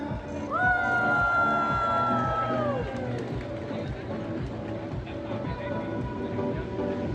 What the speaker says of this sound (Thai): ขอเสียงปรบมือด้วยครับทุกท่านครับ